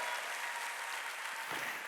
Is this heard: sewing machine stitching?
no